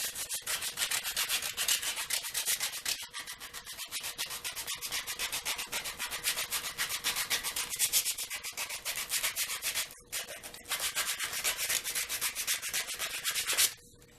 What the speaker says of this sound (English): 50 grit sandpaper